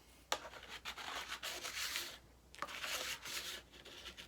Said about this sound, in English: Scrape it right along.